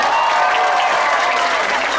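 Loud, dense crowd applause fills the space for a Baleganjur gamelan group from Sudaji village, Bali, after a competition performance, sustained and steady throughout without a break.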